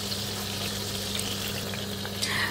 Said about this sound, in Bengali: রসুন আর ডিমটা আমি হালকা একটু ভেজে নিব